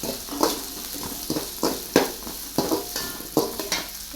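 Curry leaves with onion and carrot sizzle in a hot pan for cauliflower Manchurian, a continuous frying hiss broken by about eight sharp, rhythmic stirring scrapes and clatters, close and alone.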